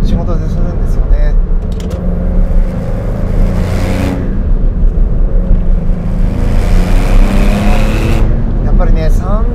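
Maserati GranCabrio Trofeo accelerating hard on a winding road, a loud, steady engine roar with rising revs and gear-driven surges throughout, heard from inside the car with someone talking over it.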